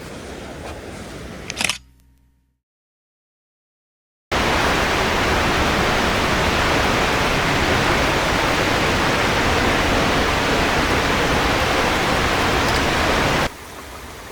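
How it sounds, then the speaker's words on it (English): An Oregon waterfall roars as steady, dense broadband rushing water, close and loud, preceded by a brief camera-like click and a few seconds of silence. "Another waterfall."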